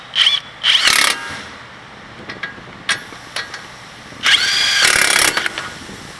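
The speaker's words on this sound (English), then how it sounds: "You can go ahead and tighten those bolts down." Power tool tightening the front brake caliper bolts on a 2003 Ford Expedition: short buzzing bursts near the start, then a longer steady whir later, with quiet clicks and pauses in between and no talk.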